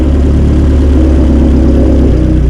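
A turbocharged SRT car engine idles loudly and steadily up close, a constant low rumble with an even, smooth rhythm and no revving.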